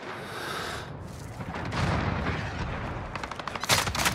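Gunfire in Call of Duty: Modern Warfare during a Ground War match on Krovnik Farmland: dense bursts of automatic fire and booming blasts, loud and sustained, with no talk.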